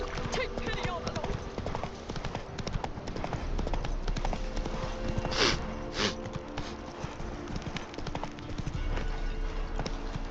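Hooves of Roach, Geralt's horse in The Witcher 3, clatter in a fast, steady galloping rhythm, close and continuous, while someone speaks briefly over the running.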